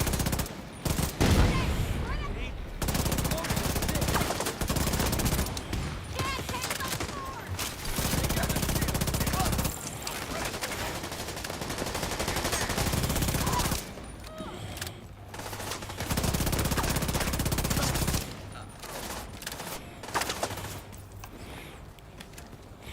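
Gunfire in The Division 2, loud bursts of automatic fire and rapid fusillades coming in waves with brief lulls, dense and close, with some game voice lines mixed in.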